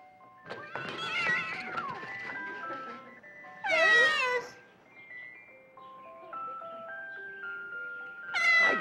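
A cat meows in a few drawn-out, wavering calls, clear and fairly close, spaced apart with soft music or tones between them.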